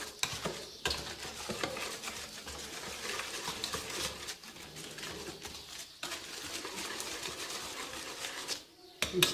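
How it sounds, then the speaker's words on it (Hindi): Yogurt being stirred into a spiced onion masala in a pan for vegetable korma, a soft wet scraping and gentle sizzle that runs steadily, with someone speaking over it. "मसाले में दही मिक्स करने लगी हूँ।"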